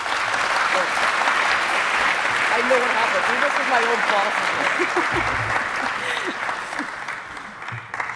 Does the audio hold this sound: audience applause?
yes